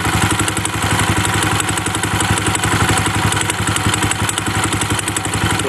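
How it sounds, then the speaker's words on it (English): A custom 15 HP buggy engine idling slightly fast on a stand, a loud, steady, close mechanical drone with rapid even firing pulses and no pauses. "Idling a bit fast because it's up on the stand."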